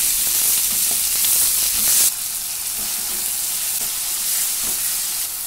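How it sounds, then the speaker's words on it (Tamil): Chopped tomatoes land among sautéing onions in a pan for a ridge gourd poriyal made without water, giving a loud, steady sizzle that drops a little in level partway through. "இப்ப நம்ம கட் பண்ணி வச்சிருக்க இந்த தக்காளியை சேர்த்துறலாங்க"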